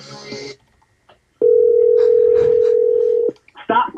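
A telephone dial tone holds steady for about two seconds and then breaks off, with quick touch-tone dialing beeps around it and a voice speaking briefly before and after.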